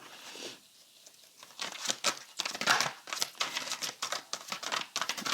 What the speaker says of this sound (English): when I'm shuffling the cards.